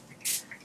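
Two bursts of water mist from a hand spray bottle onto a glueless lace frontal wig, one longer hiss then a short second spritz, close and fairly quiet with no talking.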